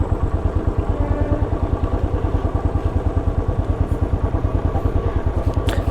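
A BMW R80 motorcycle passes close by, its boxer-twin engine a loud steady low-pitched throb with even rapid pulses that holds through the whole stretch.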